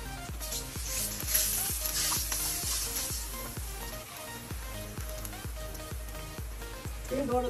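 Garlic sizzles in hot oil in a pan over medium heat, a steady crackling fry running throughout beneath rhythmic background music and occasional voices.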